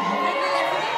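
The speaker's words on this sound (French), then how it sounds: "regardez les puces, ça hurle pour Romy là" A television studio audience screams and cheers loudly and continuously at a live prime-time reality show broadcast.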